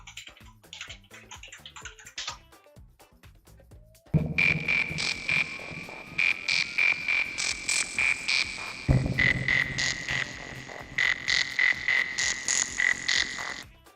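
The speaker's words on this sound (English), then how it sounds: "And we're going to play the frog song for you, Ronan." A playful frog song is played over a livestream, with rhythmic croaks and chirpy tones repeating steadily over a bright, music-like backdrop after a quieter opening.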